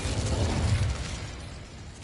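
The Incendio fire spell cast in Hogwarts Legacy on PS5 makes a loud whooshing burst of flame that flares up and then fades into a lingering crackling roar, with no voices.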